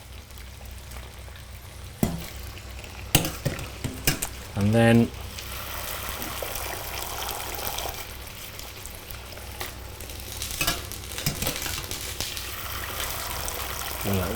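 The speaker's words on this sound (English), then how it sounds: "we've got this very sort of wet courgette cooking in the water with a bit of olive oil" Wet courgette sizzles and bubbles in a pan of water and olive oil with steady frying noise, brief clatters and a spoon stirring, while someone talks over it.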